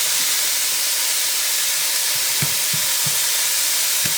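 Ground beef frying in a pan for pasta fagioli gives a loud, steady sizzle and hiss, with a few soft stirring scrapes near the end.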